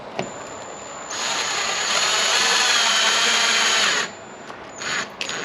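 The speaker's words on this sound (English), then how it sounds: "we'll start putting the screws in." A power drill drives screws into a carbon front splitter on a Cadillac CTS, one steady whirring run of about three seconds, with brief shorter bursts just before and after.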